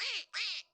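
A duck quack sound effect, two loud nasal quacks in quick succession, close and clear with nothing behind them.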